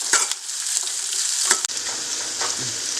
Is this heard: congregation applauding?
no